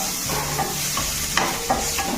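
Tomatoes tipped into a hot pan of frying onions for a mung dal and drumstick-leaf dalma, sizzling loudly while a spoon scrapes and stirs in a few distinct strokes.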